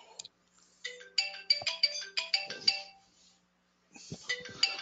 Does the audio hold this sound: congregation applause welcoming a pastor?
no